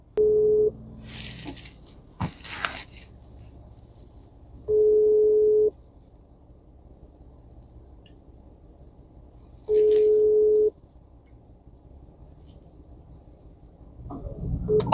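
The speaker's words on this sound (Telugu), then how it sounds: "ఇప్పుడు కస్టమర్కి ఫోన్ చేద్దాం." Calling a customer on a mobile phone during food-delivery work in Kuwait produces a ringback tone: three steady, one-second beeps spaced about five seconds apart, with faint handling noises between them and no speech.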